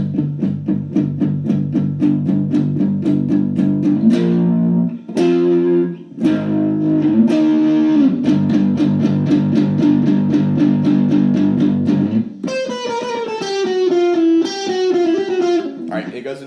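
Distorted electric guitar plays the solo-like melody from "Killer Klowns from Outer Space", chugging chords leading into a key change and a higher singing lead line, loud and continuous with brief gaps.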